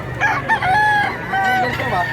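Gray rooster crowing up close, a couple of strained, wavering calls in quick succession over faint background noise, with a voice briefly in the mix.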